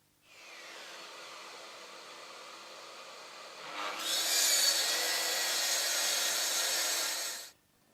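A Mafell MT55 plunge saw runs along a guide track cutting wood, a steady whining motor with rasping blade noise that grows louder midway through the cut, then stops abruptly near the end.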